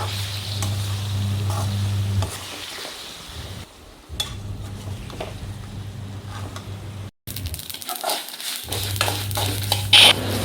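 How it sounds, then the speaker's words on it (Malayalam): Raw mango pieces sautéing in sesame oil, a steady close sizzle with occasional stirring scrapes, briefly dropping out twice before the frying resumes. "കുറച്ചൊരു സോഫ്റ്റ് ആകുന്നവരെ ആ നല്ലെണ്ണയിൽ കിടന്നിട്ട് അതൊന്ന് വഴറ്റിയെടുക്കുക"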